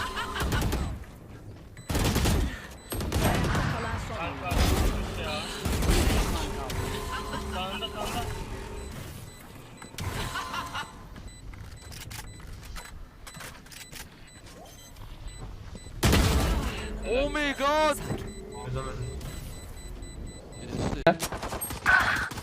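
Gunfire in the shooter game Valorant, bursts of shots and impacts scattered through a noisy match, with players talking over much of it.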